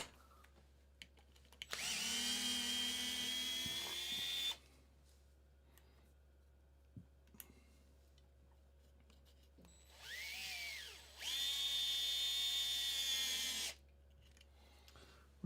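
A power drill drives screws to install front risers on a comp truck, two loud whining bursts of a few seconds each with a brief spin-up between, close and clear over a quiet room.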